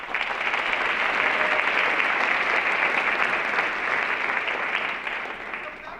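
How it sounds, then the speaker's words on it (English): A dense round of audience applause at a college convocation, steady and full for several seconds, then easing off toward the end. "So let's give them a round of applause."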